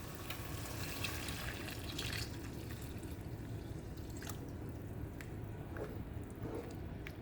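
Coconut milk poured into a Kerala-style egg curry, a soft continuous liquid pour with gentle splashing and wet squishing, fairly quiet and steady with no talking.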